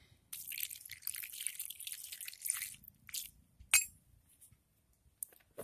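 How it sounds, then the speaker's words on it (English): Water poured onto a cap and ball revolver, heard as faint, sparse drips and light splashes with a few small metallic clinks, quiet and close, with gaps of near silence. "Just add a little water to the mix."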